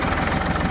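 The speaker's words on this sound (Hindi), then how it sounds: "मेसी स्टैंडर्ड का 241 ट्रैक्टर बनाया हुआ जो आपके सामने चल रहा है।" A modified Massey 241 tractor engine runs up close and loud, a dense, continuous throbbing idle with a rough, knocking pulse and no voices.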